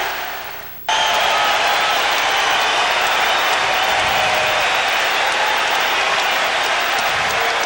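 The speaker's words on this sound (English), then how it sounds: "they have been standing and cheering since Larry Bird made his way from underneath the tunnel from the Boston locker room" A packed Boston Celtics arena crowd at the 1991 playoff deciding Game 5 against the Pacers stands and cheers for Larry Bird, a loud, sustained roar of applause and shouting that swells in after a quiet first second and holds steady.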